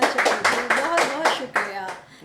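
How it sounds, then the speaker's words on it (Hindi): Audience applause welcoming a guest onto a talk show stage, a burst of bright clapping that rises in waves and tapers off within a couple of seconds, with a voice briefly over it. "तो जोरदार तालियों के साथ स्वागत करिए"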